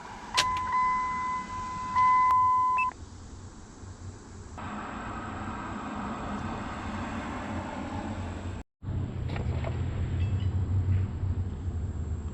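A truck's ignition switches on during a tuner install, bringing a short electronic tone and then a steady mechanical whir and hum of the vehicle systems powering up, fairly close and without talk.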